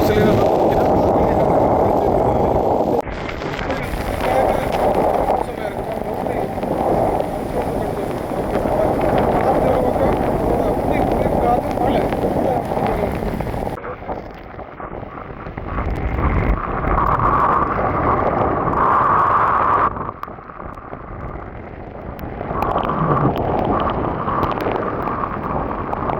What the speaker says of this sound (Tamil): இந்த காற்று இப்படி அடிக்குது